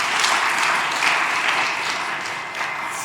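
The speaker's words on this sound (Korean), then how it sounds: "다시 한번 박수로 환영하십시다." Lecture-hall audience applauds to welcome a speaker, a steady, close crowd of clapping hands that holds for a few seconds and tapers slightly at the end.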